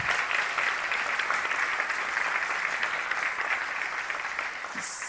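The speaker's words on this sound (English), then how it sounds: "So give a big round of applause for yourself" Audience at a human rights conference applauding themselves, a steady, dense wash of many hands clapping that holds evenly for about five seconds, with no talk over it.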